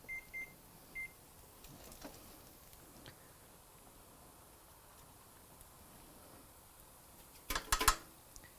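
A kitchen timer on a stovetop cooking setup chirps three short beeps as it is set, then after a long quiet stretch a brief burst of clattering kitchen noise follows. No one talks.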